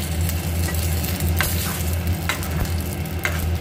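Bengali five-spice tempering sizzles and crackles steadily in hot oil in a pan, with occasional stirring scrapes over the continuous frying hiss.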